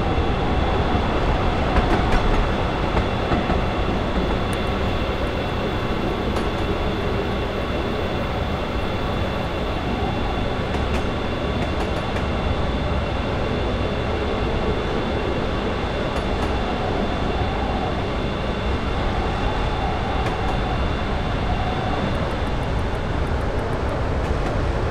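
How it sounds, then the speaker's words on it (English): A passenger train in Train Simulator 2015 coasts with power idled at about 55 mph on the Manchester London Road to Sheffield route, giving a steady loud rumble with faint whining tones and no talk. "As we reached 55 miles per hour, I idled the power to allow the train to coast."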